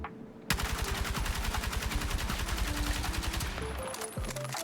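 An L85A3 assault rifle in Battlefield 6 fires a sustained automatic burst of rapid, evenly spaced shots for about three seconds, loud and close, with a ringing tail as it stops.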